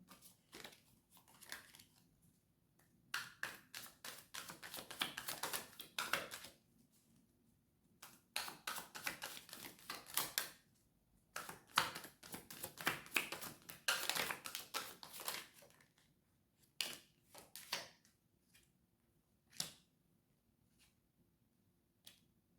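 Bursts of crisp riffling and snapping as cards are shuffled close up, coming in quick runs separated by short quiet pauses.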